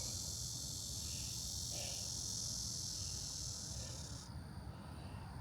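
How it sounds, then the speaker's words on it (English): Cicadas buzz outdoors in a continuous high, steady drone that shifts pitch slightly near the end, over faint low background noise. "You can hear the cicadas."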